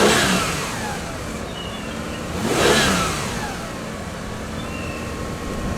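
A $200 Lexus engine revs up in a single rising surge and then settles back, close and fairly loud over steady background noise, with no talking.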